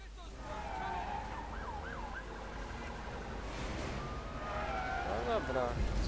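Police sirens wail during a chase in The Amazing Spider-Man video game, rising and falling tones that swell and fade over a steady engine-like rumble, with a voice talking over them.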